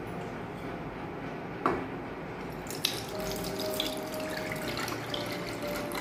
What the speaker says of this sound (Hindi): अब इसमें हम दूध डाल लेते हैं।